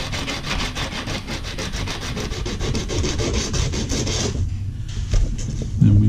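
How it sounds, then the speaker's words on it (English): Sandpaper rubs back and forth in quick, rhythmic strokes against the hard edge of electrical conduit being deburred, loud and close, before stopping near the end. "a piece of sheetrock sandpaper, sanding pad sandpaper, and we just deburr it"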